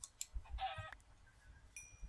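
Short game-like chicken clucks in a few quick bursts, with a brief higher tone and some soft clicks, fairly quiet overall.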